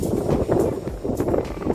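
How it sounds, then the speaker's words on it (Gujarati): Strong wind at the Saputara hill station buffets the microphone in loud, rumbling gusts that swell and dip throughout. "બહુ પવન છે અહીંયા આગળ"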